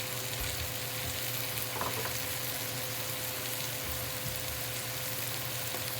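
Seasoned food with salt, pepper and plenty of garlic sizzling steadily in a pan ahead of red beans, a constant close frying hiss with a faint stir or two and no voices.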